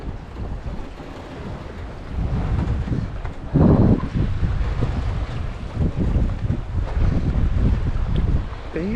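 A sailboat running wing on wing downwind with its genoa unpoled, wind buffeting steadily with water rushing along the hull, one louder gust near the middle and no talk.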